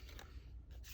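Scissors snipping through paper in two quick, faint cuts about half a second apart, close by in an otherwise quiet room.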